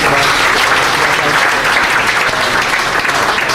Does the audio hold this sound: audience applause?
yes